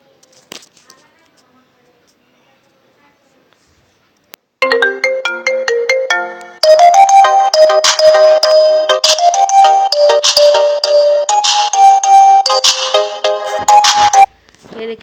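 A ringtone played from a ringtone website: after near silence, a bright electronic melody starts with repeated tones, then swells into a loud, busy looping tune for several seconds before cutting off.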